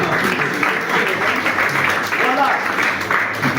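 A church congregation applauds and cheers loudly and steadily for several seconds, with voices calling out over the continuous clapping.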